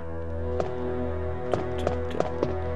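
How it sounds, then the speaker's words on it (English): A character walking in a Resident Evil game, about a half dozen sharp footstep taps in an even beat over a steady humming tone of background music. "Her footsteps make like a beat."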